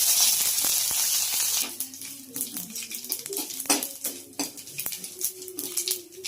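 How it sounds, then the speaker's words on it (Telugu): Dried red chilies, fenugreek, cumin, mustard seeds and curry leaves frying in hot oil for a tempering, a bright steady sizzle opening loud then settling into softer crackles with faint clinks of a pan and utensil. "ఇప్పుడైతే ఇవి బాగా వేగిపోయాయి."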